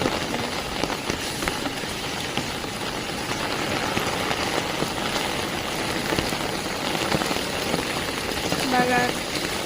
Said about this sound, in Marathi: बघा किती धूम धूम पाऊस आहे